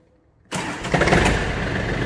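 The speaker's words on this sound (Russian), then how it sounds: "Трактор запускается очень хорошо." A Yanmar FF205D 20 hp tractor engine cranks and catches after a half-second of silence, then settles into a steady, loud, close diesel idle with a brief rev near the start.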